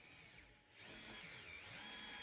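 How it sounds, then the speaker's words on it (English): Power drill driving wood screws into plastic, a steady whirring burst that briefly dips then resumes and runs continuously, close and fairly loud with no talk. "I'm going to use these wood screws, and I'm going to drill into the plastic itself"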